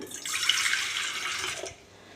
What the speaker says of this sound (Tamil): தேவையான அளவுக்கு நம்ம தண்ணி ஊற்றி